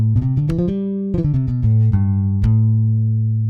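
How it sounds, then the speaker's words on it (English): Ample Bass P virtual P bass plugin on its Rich Noise preset: a quick run of plucked notes, a pause, then another run ending on a long held low note, loud and alone. "Okay, perfect if you like a rich noise sound."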